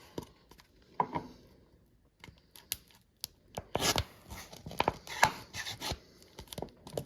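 A CRKT Minimalist knife slicing through a bottle, heard as a scattered run of close, sharp cutting and crinkling bursts of varying loudness, with quiet gaps between them.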